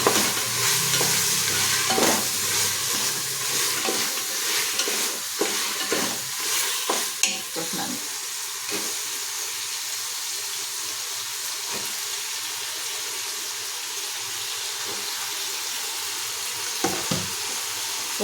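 Vegetables such as carrot, onion and tomato stir-fry in a pan for veg rice, with a steady sizzle under repeated scraping and clattering stirs from a spoon.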